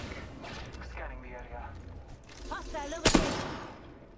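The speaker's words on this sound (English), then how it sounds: "I'm getting shot at." Gunfire in an Apex Legends match, bursts of shots crackling near the player amid game noise, with a sharp loud crack late on and a voice talking over parts of it.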